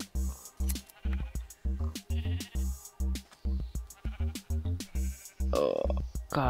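Sheep in Minecraft bleat repeatedly in short, separate calls, a quick irregular series of loud, close bleats with brief gaps between them.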